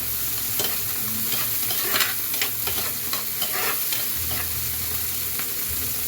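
Squid sizzles and fries in a pan while a utensil stirs it in a steady series of scrapes and clatters, up close, with a constant hiss of hot oil underneath and no talking.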